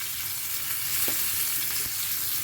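Dried red chilli and mustard seeds fry in hot oil, giving a continuous close sizzling hiss with a couple of soft stirring knocks, and no voices.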